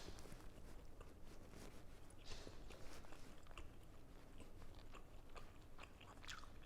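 Grilled tri-tip steak, cooked medium rare in the middle, is chewed and bitten quietly, with soft crunches and wet chewing repeating steadily at close range and no talking.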